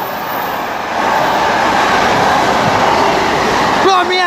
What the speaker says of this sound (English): Double bloody train, mate.